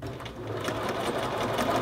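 Sewing machine stitching the collar of a men's shirt, a close, steady rapid whirring and needle chatter running continuously for a couple of seconds.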